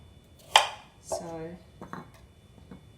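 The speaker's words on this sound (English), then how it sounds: "I cut the carrots in small pieces like that" A knife chops washed, peeled carrots into small pieces on a cutting board: a few sharp, close cuts spaced apart, with a brief voiced sound in between.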